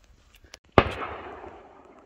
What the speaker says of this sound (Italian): Hanno appena sparato.